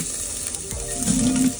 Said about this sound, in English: So I'm putting the potato and the carrot in the air fryer.